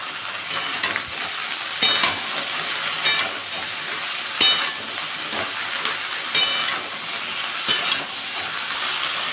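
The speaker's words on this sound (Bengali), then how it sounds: "কড়াইতে সর্ষের তেল গরম করে নিয়েছি এবার ভেন্ডিটা ভেজে নেব" Okra fries in hot mustard oil with salt and turmeric in a kadai, a continuous close sizzle broken by several sharp clicks and scrapes of stirring at irregular intervals.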